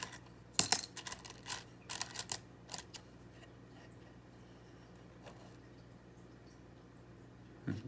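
Old foreign coins being sorted and handled, giving scattered sharp metallic clinks and drops in short irregular bursts, then a long quiet stretch with faint handling noise and one last clink at the end.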